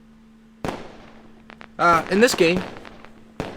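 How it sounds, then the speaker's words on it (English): Two sharp firework-like bangs from an explosion sound effect, one early and one at the end, each fading quickly; someone speaks briefly between them. "I'm gonna need an explosion going on right now, because I'm excited."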